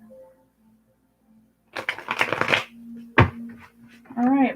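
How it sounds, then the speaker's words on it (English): Tarot cards shuffled by hand in quick riffling bursts, close and fairly loud, with a brief pause between rounds and a person talking over part of it. "All right, a few more shuffles."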